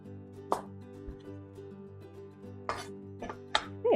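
A knife chops a pepper into small chunks on a board for a pesto pepper chicken meal prep, a few sharp isolated cuts spaced apart over a quiet background hum.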